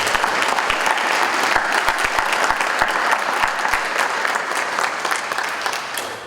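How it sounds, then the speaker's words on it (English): An audience at a school district address applauds a student, sustained dense clapping for several seconds with a few louder close claps early on, gradually thinning toward the end. "Let's give Javon another round of applause."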